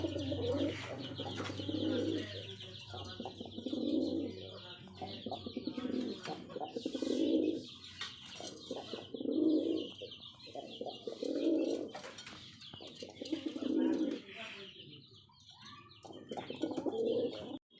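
Rajshahi Giribaz pigeons coo in a steady, repeating rhythm, each soft throaty call recurring about every two seconds close by, with faint chirps and a low hum in the background.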